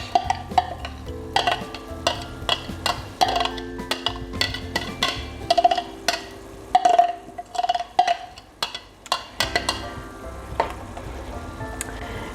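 Chilli being stirred into simmering sugar for chilli jam in a pot, with repeated scraping and clinking of a spoon against the pan over a steady low bubbling sizzle, close and fairly loud.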